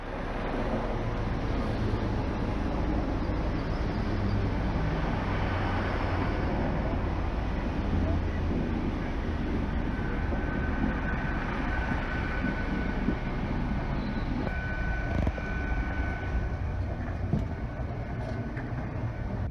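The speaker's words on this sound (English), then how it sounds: "our second train arrives to take us to Malvern Link" A Class 802 passenger train rolls in at a station on the line toward Malvern Link, a loud sustained rumble and wheel roar with a faint whine, growing and settling over about twenty seconds without talk.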